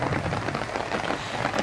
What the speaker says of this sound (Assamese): এই যে গছৰ পাতবোৰত বৰষুণে চৰচৰাই থাকে